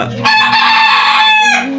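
A Fayoumi rooster at a poultry hatchery in Baniachong crows once, loud and close, a single drawn-out cock-a-doodle-doo lasting over a second with no voices around it.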